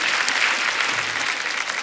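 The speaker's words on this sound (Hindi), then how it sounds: "एक बार जोरदार तालियां हमारे मेहमानों के लिए" Studio audience applause, a steady burst of dense clapping from a full room, filling the short moment on its own with no talk.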